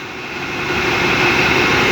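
Diesel locomotive number 4133 with a Caterpillar engine idling while the train stands stopped, a loud, steady low rumble and hum that swells slightly and holds constant, close by with no talk.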